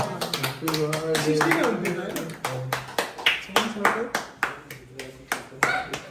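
Hands clap in a steady, repeated run at a birthday gathering, the claps sharp and close while several voices talk over them throughout.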